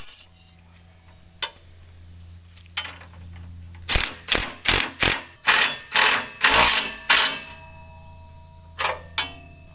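A wrench ratchets bolts on a tractor in a quick series of sharp metallic clicks and clanks, close and fairly loud, with a few isolated clinks before and after against a low background hum.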